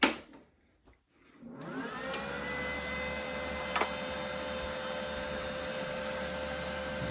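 Sefaspe MIG200 PRO welding machine switched on, with a click followed by its cooling fan spinning up into a steady whirring hum that holds constant, with a brief click partway through.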